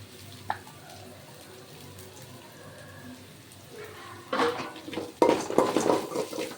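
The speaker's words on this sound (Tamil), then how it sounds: "தேங்காய் போட்டு ஒரு வதக்கு வதக்கி" Coconut being sautéed in a pan for an intestine (kudal) curry: quiet stirring at first, then louder clattering of a utensil against the pan with sizzling bursts toward the end.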